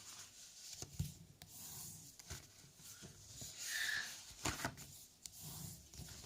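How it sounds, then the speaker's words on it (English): A bone folder is rubbed along score lines on paper while folding a ribbon storage box, making soft, faint scraping and rubbing strokes close up in an otherwise quiet room. "we're going to fold and burnish on our score lines, and you need to use a bone folder for this"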